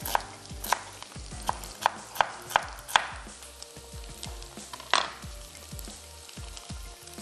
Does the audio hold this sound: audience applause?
no